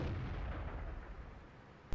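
A single tank gun shot fired from a World of Tanks tier 8 scout loaded with HE shells, a loud booming blast that fades into a rumbling tail, with another sharp report cutting in right at the end.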